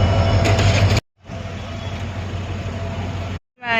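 A train passes a level crossing in Porbandar as a loud, steady low rumble and clatter, broken by two abrupt silent cuts.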